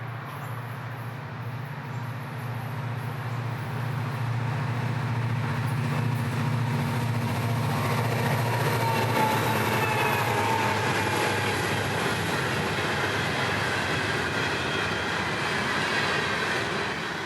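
Florida East Coast Railway train 103 passes at track speed among native vegetation, a loud rolling rumble of wheels and cars that swells and holds with rhythmic rail clatter and squeal, no voices.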